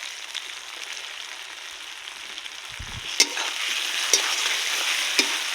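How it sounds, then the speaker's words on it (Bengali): Masala paste for chicken kosha, made with ground and chopped tomato, frying and being stirred in a pan, a steady sizzle with a few sharp spatula scrapes and taps toward the end, close and alone. "এবার আমি ঘন ঘন নাড়বো যাতে তলায় লেগে না যায়।"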